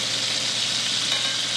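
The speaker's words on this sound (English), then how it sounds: "This method of pan frying, I feel like the safest method of cooking a steak." Steak pan frying sizzles steadily in a dense, even hiss, close and loud, with no break or talk across the short stretch.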